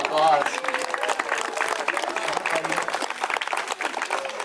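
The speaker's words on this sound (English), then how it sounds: "Give this man a round of applause." Audience applause at a zoo wildlife show, a crowd clapping steadily through the clip with voices and a brief whistle-like tone near the start, talk mixed in.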